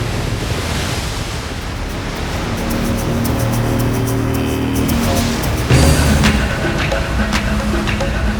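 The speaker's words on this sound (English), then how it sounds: "After successfully towing into a handful of perfect waves, Ross Clarke Jones and Tony Ray found themse" Big ocean waves roar and break steadily during a big-wave tow-in surfing session, with wind buffeting the microphone and a surge of louder crashing surf near the end.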